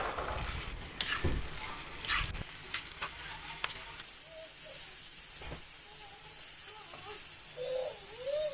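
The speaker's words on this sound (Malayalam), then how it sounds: "സവാള ഒക്കെ നന്നായിട്ട് വഴറ്റിയെടുക്കുക." Chopped onions sautéing in coconut oil in a thick-bottomed pan, a soft steady sizzle and hiss with a few stirring knocks early on, faint and close.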